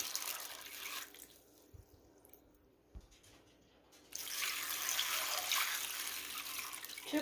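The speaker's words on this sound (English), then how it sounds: "Next, I'm going to pour in some water." Water is poured into a cooking pot holding frozen chicken breasts, first a steady rushing stream, then a quieter pause with a couple of small knocks, then louder continuous pouring, heard close.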